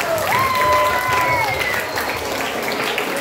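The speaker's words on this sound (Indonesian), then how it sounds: "Sekali lagi kita tepuk tangan buat mereka ya." Applause from an audience at a school orientation event, a brief wash of clapping with a sustained tone and faint voices over it, tapering off.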